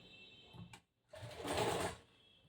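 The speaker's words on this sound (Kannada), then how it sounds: "ಈ ಅರ್ಧ ಇಂಚ್ ಬಟ್ಟೆಗೆ ಒಂದು ಹೊಲಿಗೆ ಹಾಕೊಂಡು ಬರಬೇಕು" A sewing machine runs one short, quiet burst through the half-inch fabric edge of a cross-cut blouse, after a brief faint mechanical clunk, close by.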